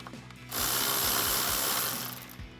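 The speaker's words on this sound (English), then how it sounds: "now I'm gonna take a 13mm socket and loosen up the nut on the positive" A ratchet turning a 13mm socket loosens the nut on a truck's positive battery terminal, a quick close run of rapid clicking that lasts about a second and a half, with no talk.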